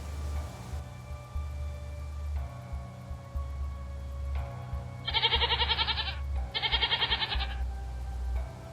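A goat bleats in two long, quavering, wavering calls in a harsh Russian wilderness, loud and close over a low rumbling background hum, with quieter gaps before and between.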